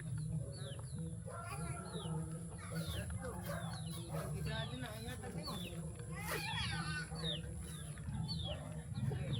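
Chickens cluck and call repeatedly at close range at an outdoor spot near a waterfall in Candijay, Bohol, with a faint rooster-like crow and steady background noise as people talk nearby.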